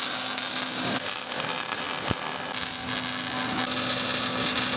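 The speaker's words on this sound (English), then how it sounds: "And Dad's sawing that now." Metal tubing being sawn for a 4-link vehicle frame in a shop: a steady, loud power-tool buzz with a constant hum runs through the whole stretch, broken by one sharp click partway through.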